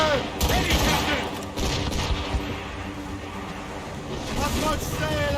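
Booming ship cannon volleys in the naval game Assassin's Creed Rogue, several heavy blasts over rushing wind and sea noise, with crew voices shouting orders between shots.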